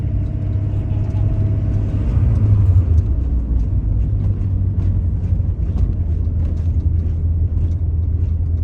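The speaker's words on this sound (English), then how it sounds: "I think my diff is whining" BMW E34 540i driving, a steady low road rumble and drone inside the car with a faint higher whine from the differential, continuous throughout.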